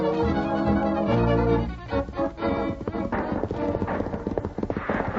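Galloping horse hooves in an old radio drama chase scene, a rapid clip-clop rhythm loud and close throughout, with neighing sounds mixed in.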